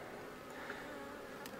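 Honeybees hum and buzz steadily around an opened hive while frames are being worked, a continuous close drone with no voices.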